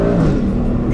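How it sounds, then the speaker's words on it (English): Aston Martin Vantage Volante V8 with its exhaust opened, revving loudly and close in one continuous roar. "Opened up the exhaust."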